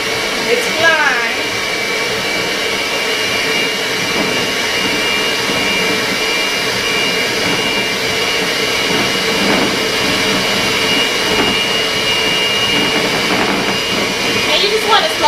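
Electric mixer running on low speed as it creams butter and sugar for thin mint cupcakes, a loud, continuous close whirring drone with faint clatter.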